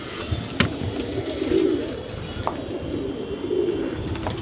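Pigeons coo softly in low repeated rolling calls against a steady outdoor background, with a few sharp clicks or taps scattered through.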